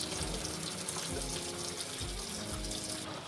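Hot water streaming from a tap into a sink, a steady, close rushing flow with light splashing, no voices.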